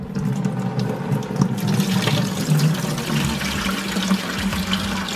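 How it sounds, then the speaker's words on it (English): Water trickles and pours from a torn plastic fish bag into a tank while stocking a 150 gallon aquarium, a continuous close splashing flow with gurgles. "I'm just gonna rip a hole in the side, and then we're gonna slowly release the water."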